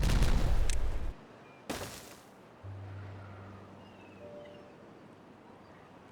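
Explosions blast terrain in the Timberborn video game, a loud burst of crackling booms, then a second sharp blast after a pause, fading into a low droning hum and quiet game ambience.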